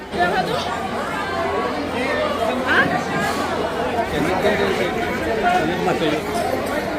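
Steady crowd chatter from a busy roadside outing fills the scene, many overlapping voices forming a dense, continuous hubbub at close to moderate distance with no single voice standing out.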